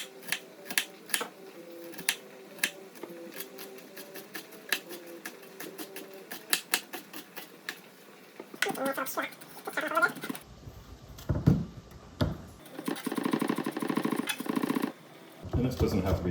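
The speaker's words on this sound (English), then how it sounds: "I'm just gonna do a fine dice on the shallot." A knife finely dices a shallot on a cutting board, giving rapid sharp chopping taps in quick bursts, followed by louder handling noises later.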